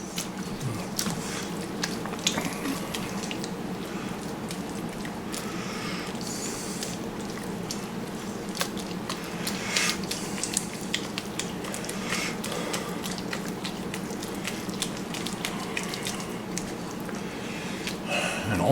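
Hot applesauce stirred in a cooking pot gives a soft, wet squelching and low bubbling hiss, with small clicks of the spoon scraping the pot, steady and fairly quiet throughout.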